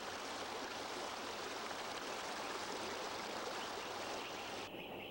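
A mountain stream flows on the way to the Sierra Madre in Mexico, a steady close broadband rush of water continuing unbroken, with no voices.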